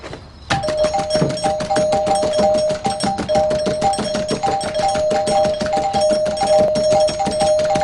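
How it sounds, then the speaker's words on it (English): A doorbell is rung over and over without pause, a rapid stream of loud, close chimes that runs on for several seconds. "What the hell are you doing ringing our doorbell like that?"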